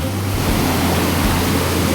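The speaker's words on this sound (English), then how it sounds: "That is a raging fucking river." A raging river rushes near the Willard Bay waterfalls on a Utah hiking trail, a loud, constant wash of water noise close by with a low rumble underneath and no speech.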